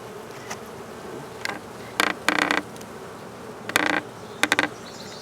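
Honey bees buzz close around an opened beehive during an apiary check, in short loud bursts that come and go over a steady low hum, with occasional creaks from the hive frames.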